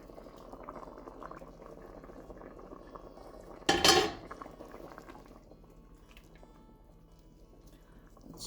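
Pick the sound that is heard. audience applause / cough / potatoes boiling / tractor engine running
potatoes boiling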